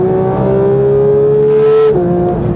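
A Porsche 911 GT3 with a 7-speed PDK gearbox screams up toward 9,000 RPM, its loud, close engine note climbing in a sharp rising whine and then breaking off abruptly near the end.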